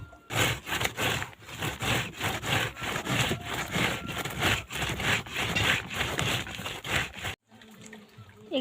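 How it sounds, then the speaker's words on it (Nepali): Animal fodder is chopped by hand in rapid, rhythmic rasping strokes, close and loud, before it abruptly stops. "चारो घोप्नु पऱ्यो म चाहिँ।"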